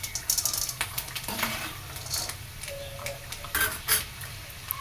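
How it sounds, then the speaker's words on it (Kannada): Peanuts and chana dal dry-roasting in a pan while being stirred, giving a close, dry rattle and scrape of utensil against metal with scattered clinks and a faint sizzle, no voices. "ಫಸ್ಟೇ ಹಾಕ್ಕೊಂಡು ಹುರಿದು ತೆಗೆದಿಟ್ಕೊಂಡ್ಬಿಡ್ತೀನಿ ಒಂದು ಸ್ವಲ್ಪ."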